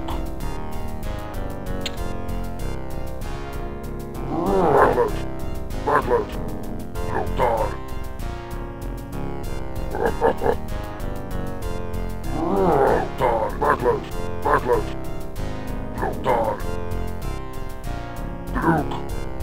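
Dog barks from the orc campaign of the PC DOS strategy game Warcraft 1, several short yapping bursts spread over steady game music and effects.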